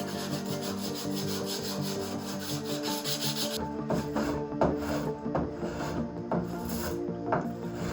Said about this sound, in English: After that I got to work carving the leg.